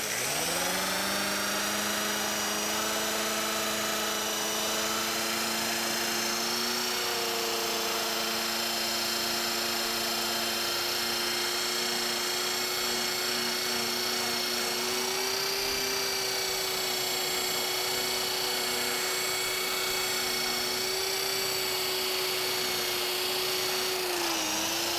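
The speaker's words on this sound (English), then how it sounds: "Now this is my Sandaflex. This has 120 grit on it" A Sandaflex sander loaded with 120 grit paper works the wood of a thoroughbred rocking horse, giving a steady whining drone that runs unbroken and fairly loud for the whole stretch, with its pitch drifting slightly.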